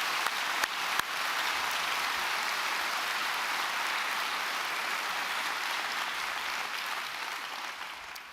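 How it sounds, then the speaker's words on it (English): A crowd at a university graduation ceremony in Dublin gives loud, sustained applause, a dense wash of clapping that starts after a few sharp claps and holds steady before fading slightly at the end. "Can I ask you please to give them a massive round of applause as well?"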